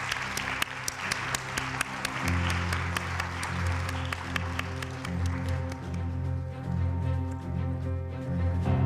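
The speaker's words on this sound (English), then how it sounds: "please give them a big and warm round of applause" An audience at a gastronomy tourism forum gives warm applause for the chefs, a steady dense round of clapping that holds strong throughout and only thins slightly near the end.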